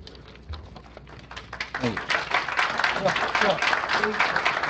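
Audience clapping breaks out at a Wakulla County board of commissioners meeting, a dense patter of many hands that swells after a quieter start and continues steadily while a voice speaks over it.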